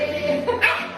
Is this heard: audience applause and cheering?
no